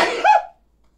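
One sharp, close sneeze from a person at a tong-its card game, a brief burst that cuts off quickly into silence.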